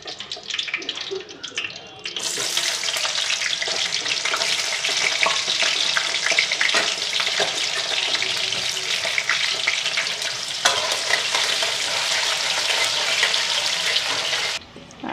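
Cumin seeds crackle and sizzle in hot oil for a tempering, a loud, dense, continuous frying hiss held close for well over ten seconds before cutting off.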